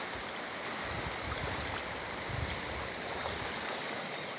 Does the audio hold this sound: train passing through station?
no